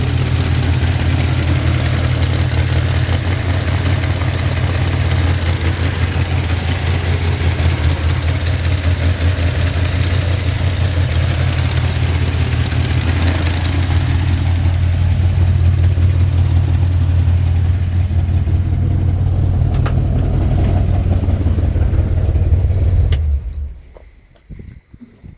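The exhaust of a 1967 Chevrolet C10 rumbles at a steady, heavy idle, loud and near, before cutting out abruptly near the end as the engine shuts off, leaving quiet.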